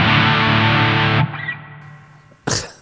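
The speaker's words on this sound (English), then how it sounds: "if you hit the boost, it becomes a hard rock sound." An electric guitar runs through a T-Rex Mudhoney pedal with its boost engaged, giving a hard rock distortion. One loud sustained chord rings, then fades, and a brief scrape follows.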